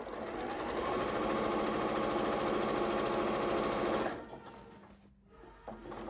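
A sewing machine runs steadily for about four seconds, stitching back and forth over the side seam of a small fabric gift bag, then slows and stops, leaving a quieter pause with faint handling noise.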